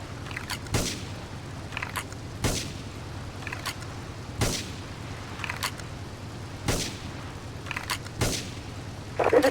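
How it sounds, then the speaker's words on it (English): Gunfire and explosions from the video game GTA 3: sharp bangs and booms recur every couple of seconds at a moderate level over a low steady rumble, with no talk. "Investigate reports of gunfire and explosions."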